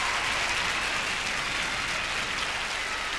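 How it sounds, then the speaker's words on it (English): Arena crowd at the 1992 Olympic rhythmic gymnastics preliminaries cheering and chanting for Spanish home gymnast Carmen Acedo, a loud, dense, continuous roar of applause and voices filling the whole stretch without a break. "you can hear the racket, you can hear the chanting as the crowd welcome one of their own gymnasts"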